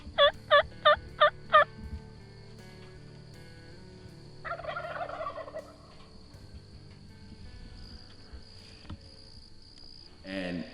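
Wild turkey toms gobble from the roost at dawn in warm spring weather, a quick burst of rattling calls at the start, then fainter distant sounds over a steady chorus of crickets.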